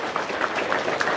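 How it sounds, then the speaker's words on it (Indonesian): A brief burst of audience applause at a motivational talk, dense clapping from a crowd, fairly loud and short. "Sip, tepuk tangan dong."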